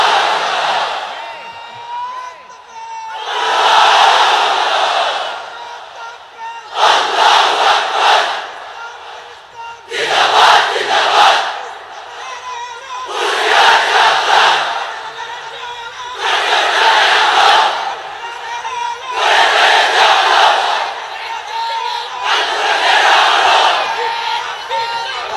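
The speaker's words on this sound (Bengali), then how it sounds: "এক একটা তাকবীরে যাতে এই প্যান্ডেল কেঁপে ওঠে।" A large crowd at a religious gathering under a pandal roars the takbir in unison, eight loud rhythmic bursts of massed voices separated by short pauses.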